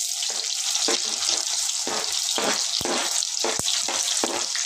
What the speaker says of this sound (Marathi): जो आपण कांदा ठेवला होता त्याला बारीक चॉप करून फोडणीला घालायचं आहे